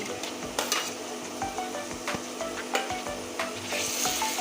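Garlic and ginger paste hit a pan of browned fried onions, crackling and sizzling close up with a steady hiss, punctuated by repeated spatula scrapes and taps as the mixture is stirred.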